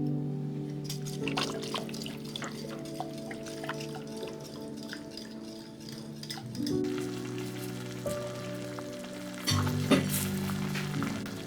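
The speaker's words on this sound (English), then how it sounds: "Then we stir in the garlic." Steady sizzling as garlic is stirred in a hot pot of Romanian ciorba radauteana soup, a spoon scraping through it, interrupted by occasional louder clinks, continuing for several seconds.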